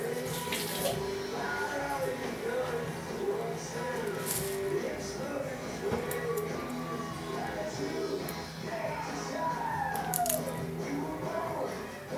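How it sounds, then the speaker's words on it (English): Tap water runs steadily into a kitchen sink while a finger is rinsed under it, a continuous splashing stream at moderate volume with small clinks and shifts in the flow. "Rinse my finger real quick."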